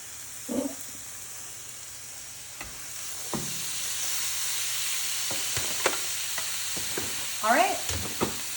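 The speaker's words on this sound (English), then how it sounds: "we are searing our steaks here. We've got our tomahawks on our griddle" Tomahawk steaks searing on a hot griddle, a constant sizzling hiss with occasional scrapes and clatters of handling, close and steady throughout with no talking.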